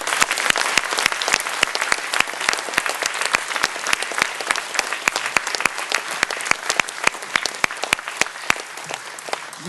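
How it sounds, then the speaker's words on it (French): A crowd applauds Captain Tran at a Paris ceremony marking the 60th anniversary of the Indochina War, with sustained, steady clapping carrying on for nearly ten seconds and sharp individual claps standing out near the front. "On peut applaudir le capitaine Tran."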